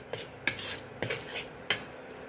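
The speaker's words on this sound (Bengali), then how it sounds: "মশলার পেস্টটিকেও আমরা তেলের সঙ্গে ভালোভাবে মিশিয়ে নিচ্ছি" A utensil scrapes and clinks against a pan as spice paste is stirred into hot oil, four or five distinct knocks spaced unevenly over a faint background hiss.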